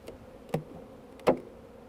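Honeybees buzzing faintly as a hive is shifted to a new position, a low hum with two louder knocks or bumps from the hive being handled.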